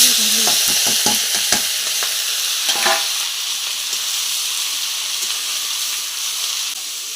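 Mashed banana blossom or banana mash stirred in a pan over fried onion and chili, giving a steady loud sizzle broken by several sharp scraping strokes of a spoon early on, then a continuous frying hiss.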